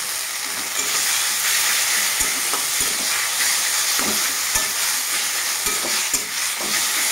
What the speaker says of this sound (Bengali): তো ভালোভাবে মিশিয়ে নেব।